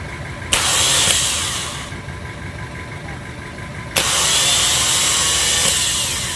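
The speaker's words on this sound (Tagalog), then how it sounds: "Atin naman pasisipain" A motorcycle with a freshly repaired starter is kick-started. Two loud engine bursts catch and run strongly for a few seconds each, up close.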